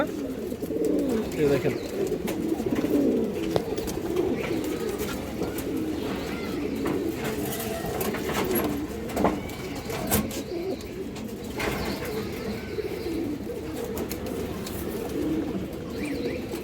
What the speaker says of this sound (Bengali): সবুজ গলা কবুতর এই দেখেন নড়ার মাঝে ডাক দেখেন